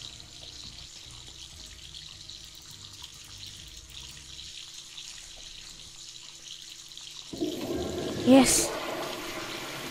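A toilet flushes near the end with a sudden rush of gurgling water after a quiet room hum, loud and close.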